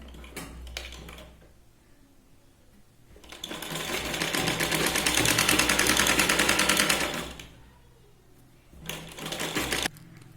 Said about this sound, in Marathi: हिला आधी आपण डबल फोल्ड करून सरळ इथे शिलाई लावून जी आहे पट्टी फोल्ड करून घेणार आहोत.